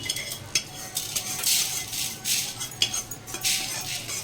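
Fried coriander is scraped out of a pan onto a plate, with busy metal spoon scrapes and clinks over a faint sizzle, several bright bursts close by and no voices.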